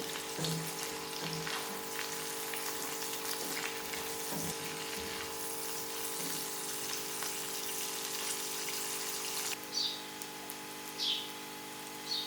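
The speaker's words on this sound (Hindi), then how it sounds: "इसी तरह अब हम प्याज को भी अच्छे से भूनेंगे" Onions fry in a pan for cabbage masala with a steady, close hiss of sizzling, joined near the end by a few brief sharper crackles and stirring sounds, with no voices.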